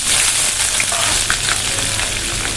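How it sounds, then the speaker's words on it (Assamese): Chopped onions frying in hot mustard oil in a wok give a loud, steady sizzle with light crackles throughout, close up and without voices. "পিঁয়াজখিনি মই ৰঙচুৱাকৈ ভাজি ল'ম।"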